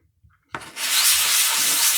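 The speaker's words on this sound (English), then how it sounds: "Boy, it feels good to get back to the sandpaper again." Sandpaper scrubbing across a shale geode: silence, then a soft thump, then a steady, close, harsh rasp of abrasive grinding on stone that continues without a break.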